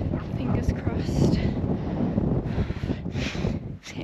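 Wind gusting across the steep side of Mellbreak, a mountain fell, roaring and buffeting the microphone in a continuous low rush with surges.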